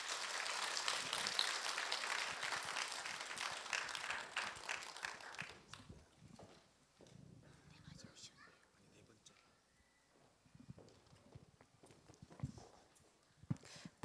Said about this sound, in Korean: 나오실 때 박수로 맞으시면 감사하겠습니다.